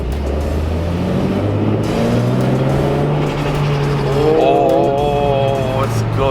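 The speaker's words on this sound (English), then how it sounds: "It's got the turbo flutter." A restored 650 hp Toyota Supra driven gently, its engine note rising through low revs and then a short fluttering turbo sound, with someone talking over it inside the car.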